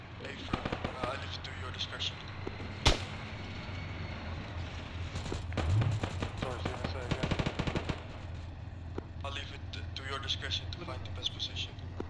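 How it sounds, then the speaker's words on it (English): Gunfire in an Arma 3 Zeus co-op operation: scattered single shots and rattling bursts, one loud crack early and a dense volley midway, more bursts later, mixed with distant shooting and game ambience. "They're taking some shots at these guys."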